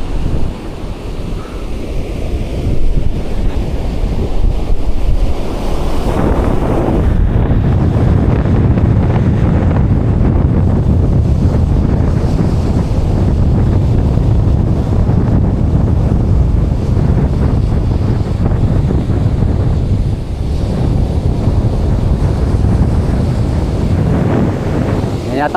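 Strong typhoon wind buffets the microphone over rough, crashing waves on the coast at Infanta, Quezon, Philippines, a loud continuous roar that surges and eases throughout.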